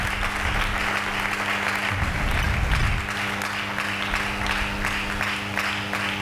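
A church congregation applauding during a Sunday sermon service, a dense steady clapping that swells briefly in the middle and carries on at a fairly even level throughout, with no voices standing out.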